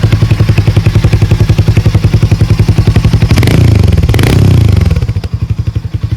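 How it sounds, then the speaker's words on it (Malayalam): A Harley-Davidson X440 motorcycle idles with a deep, throaty exhaust thumping in a steady close pulse, swelling briefly with a couple of throttle blips before settling back to idle. "വളരെ ഒരു ത്രോട്ടി ആയിട്ടുള്ള ഒരു എക്സോസ്റ്റ് ആണ് ഇതിന് വരുന്നത്"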